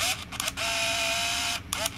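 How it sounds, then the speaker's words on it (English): An Olympus Infinity Stylus Epic compact film camera whirs as its motorized lens extends, with brief clicks of the shutter firing and short mechanical bursts around a steady motor drone, close and quiet. "there we saw the lens come out. The shutter activated and went to picture number 2."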